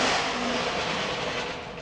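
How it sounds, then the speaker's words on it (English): A rough-running car engine near Railway Street in Nelson, a broad, steady mechanical roar that holds loud and fades slightly at the end, with no talking. "that engine sounds a bit rough"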